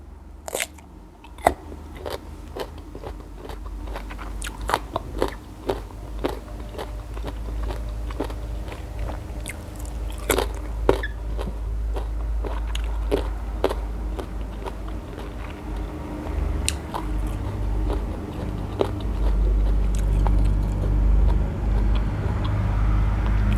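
Close, crisp bites and wet chewing of mango repeat in irregular bursts, with faint background noise beneath and no talk.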